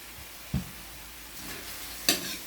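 Squid sautéed with soy sauce sizzles softly in a pan, fairly quiet and steady. Two sharp clinks of a utensil against the pan punctuate it.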